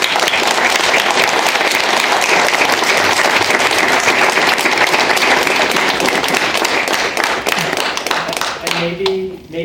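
Loud, dense applause from a large conference audience for a panel fills the room and holds steady before tapering off near the end as a voice begins.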